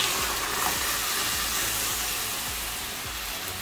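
A steady, dense sizzle of spices frying in a pan with cooked tomatoes, close and even throughout, with faint stirring scrapes now and then.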